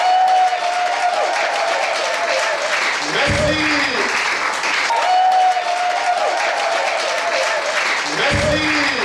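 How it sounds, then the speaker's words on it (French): A studio audience on a church-themed French-language talk show applauds loudly as a guest makes his entrance, steady dense clapping throughout, with someone briefly speaking over it. "on va l'applaudir très fort"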